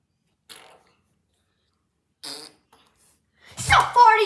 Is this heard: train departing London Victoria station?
no